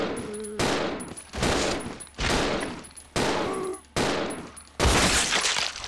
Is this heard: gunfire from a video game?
yes